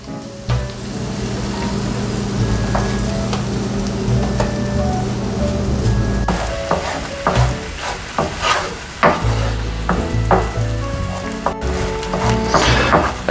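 Cream poured into a hot pan and stirred with avocado cream pasta, a steady sizzle with scraping and knocking strokes of the spoon growing busier toward the end.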